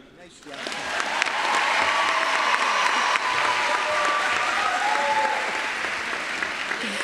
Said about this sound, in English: welcome everybody to a final round of applause to congratulate our class of 2022